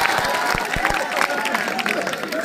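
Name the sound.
audience clapping at a village poetry gathering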